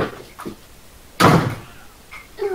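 A door is shut with a single loud thunk, standing clear above quiet room background during an online team match.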